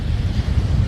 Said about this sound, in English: Yeah, and it's very windy.